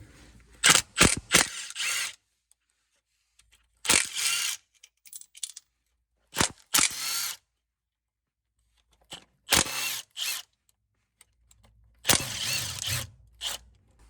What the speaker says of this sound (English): we're going to take these 8mm bolts loose that go around this